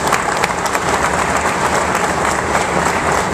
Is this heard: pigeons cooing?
no